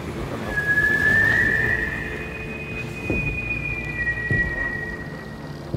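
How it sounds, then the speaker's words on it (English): An eerie, sustained whistle rings out in the horror video game Alone in the Dark, a long wavering tone that holds for several seconds. Two dull thuds sound beneath it against a low rumbling background. "Oh my god, the whistle."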